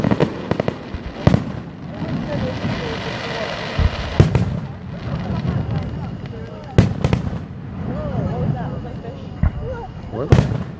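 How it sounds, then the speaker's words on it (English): Rain-style fireworks bursting outdoors, with several sharp bangs spaced a few seconds apart and a steady crackling hiss like falling rain between them. People talk throughout. "I think that's like a rain firework is what it's called, because that sounds like rain."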